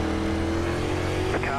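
A dirt late model race car in iRacing at Fairbury Speedway roars at a steady high engine drone as another car pulls alongside to pass, loud and close, while a voice talks over it.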